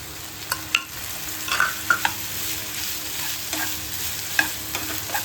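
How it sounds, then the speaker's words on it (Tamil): Onion, tomato and curry leaves sautéing in a pan for Tamil fish kulambu, giving a steady close sizzle with several sharp pops and spatula scrapes spread through, and no voices. "எல்லாம் போட்டு நல்லா வதக்கிக்கோங்க."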